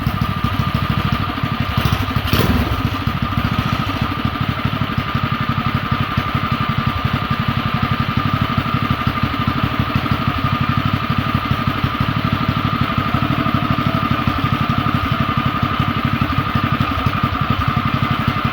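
A mini bike engine runs steadily at a close, even idle with a buzzy drone, not especially loud, with a brief knock near the start and no one talking.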